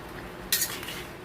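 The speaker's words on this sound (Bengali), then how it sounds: "মাঝে মাঝে কিন্তু এমনি করে নাড়তে হবে" A utensil stirs marinated chicken frying in a pan, a single brief metallic scrape against the pan over a quiet, faint background.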